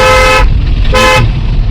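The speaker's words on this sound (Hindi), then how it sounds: "कितनी गाड़ियाँ हैं उत्तराखंड, इतना ट्रैफिक है" Car horns honking in a weekend traffic jam on a mountain road in Uttarakhand, two loud close blasts separated by a short gap, over a low rumble of idling vehicles.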